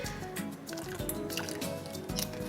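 Orange flower water pours in a generous glug into a pan of honey syrup, giving a steady liquid splashing and gurgling sound close up, with no talk.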